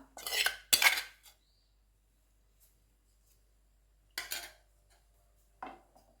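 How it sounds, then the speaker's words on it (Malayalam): A spoon clinks and scrapes against a pan while egg fried rice with coriander and egg is stirred, a couple of short clattering bursts near the start, a pause, then two more scrapes. "ഇതുപോലെ നന്നായി ഇളക്കി കൊടുക്കണം"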